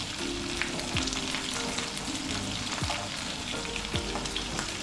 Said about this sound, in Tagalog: Crispy pa ata ang piniprito.